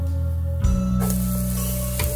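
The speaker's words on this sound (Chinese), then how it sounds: "就将啲腊肉、腊肠粒放落个镬度爆香先啦" Diced Chinese cured pork and sausage hit a hot nonstick wok over medium heat, followed by a sudden, loud, continuous sizzle that keeps going without any voices.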